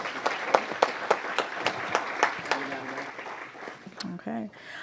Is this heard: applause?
yes